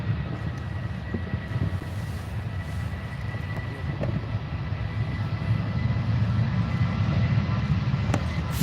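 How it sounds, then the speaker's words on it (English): A Ryanair airliner on its takeoff roll at Manchester Airport, a broad continuous engine roar building gradually in loudness, heard from a distance outdoors with some wind noise. "Here we go, Ryanair on the roll."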